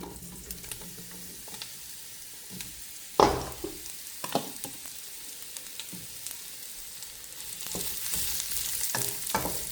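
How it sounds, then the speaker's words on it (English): Mushrooms sauté in hot oil in a pan, a soft steady sizzle with occasional stirring clatters and one louder clank, the frying growing a bit brighter toward the end. "our oil is nice and hot. I am going in first with the mushrooms"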